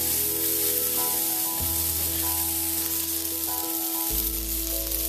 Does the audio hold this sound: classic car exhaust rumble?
no